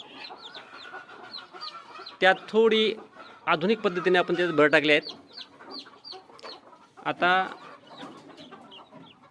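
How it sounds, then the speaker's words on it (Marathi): Free-range country hens cluck and chirp with newly hatched chicks, with repeated bursts of clucking and high peeping calls close by while someone talks over them. "या 4 कोंबड्या आपण बसवल्या होत्या, त्यांची पिलं निघाली आहेत, काही निघत आहेत"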